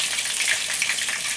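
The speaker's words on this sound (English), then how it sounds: "See how it's boiling there?" Water at a boil in a pot for marinara sauce with sausage, a close, steady bubbling hiss with small popping bursts, loud and continuous with no voices.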